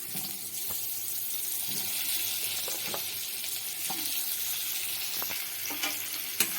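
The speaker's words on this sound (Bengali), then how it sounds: "ভালো করে সব একসাথে ভেজে নেব সব সবজিগুলোই বেশ সুন্দর করে ভাজবো" Bitter gourd, potatoes and jackfruit seeds frying together in a pan, a steady hiss of hot oil with occasional soft clicks of stirring, moderately faint and continuous, with no voices.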